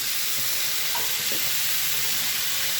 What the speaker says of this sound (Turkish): biberlerimizle mantarımız şimdi güzel bir kızaracak